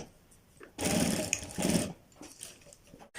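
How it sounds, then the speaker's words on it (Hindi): A sewing machine stitches the front placket of a men's high-neck kurta in two loud, close, continuous runs of rapid whirring, with a short pause between them and quiet handling around them. "तो ये फ्रेंड्स अब हम सेविंग मशीन पर पहुंच चुके हैं।"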